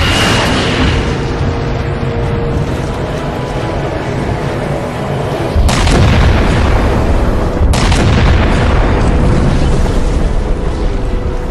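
Weapon fire and explosions in the Halo 4 video game: a sustained roaring rumble of battle noise with two sharp heavy blasts partway through, loud and close, with no talking.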